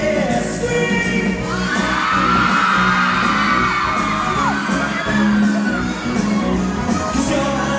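A crowd screams and whoops at a Christmas light switch-on concert in Belfast. The cheering is loud and sustained over amplified music, with shouting voices rising and falling throughout.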